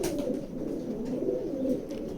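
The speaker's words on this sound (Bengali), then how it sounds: "অনেক ভালো একটা কবুতর" A male racing pigeon coos at a pigeon loft, with soft, repeated throaty cooing nearby and no talking.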